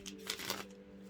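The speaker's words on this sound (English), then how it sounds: "We're almost done shuffling." Tarot cards are shuffled by hand in soft, quick riffling bursts, faint and close, over a low steady background hum.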